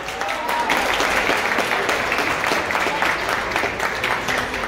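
Audience applause at an Iran Rubik's Cup speedcubing competition, a steady dense patter of many hands clapping throughout, fairly close and loud with a little crowd murmur underneath.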